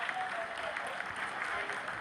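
Applause rises during the live broadcast of the Chandrayaan-3 lunar landing as the craft enters its vertical descent phase, with steady clapping and talk mixed in throughout.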